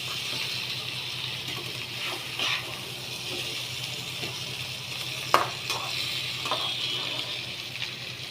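Spices being stirred and mixed in a cooking pot for a Bengali oler dalna (elephant foot yam curry), a soft continuous scraping and sizzle with a few sharper clinks of the spoon, close and steady with no talk.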